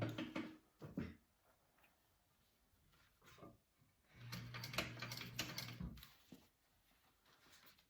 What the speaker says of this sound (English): And I'm just sewing down to that first line I made.